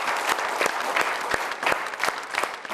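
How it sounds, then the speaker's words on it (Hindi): Audience applause at a televised poetry and entertainment show, a lively burst of steady clapping from a crowd, close and fairly loud, with no talk over it. "जोरदार तालियां बजाएं"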